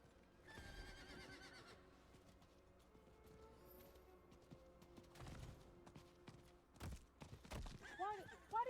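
A horse in the video game Diablo 4 whinnies loudly near the start and again at the end, with clip-clop hoofbeats and game sounds between and someone talking over parts of it.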